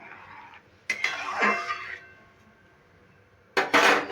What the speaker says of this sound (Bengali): এবার ডালগুলো দিয়ে দিচ্ছি একটু নেড়ে দিলাম